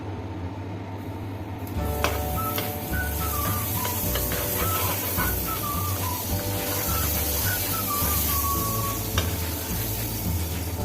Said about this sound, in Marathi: आता इथे आपण तवा गरम करायला ठेवलेला आहे त्याच्यामध्ये थोडंसं बटर घालून घेऊ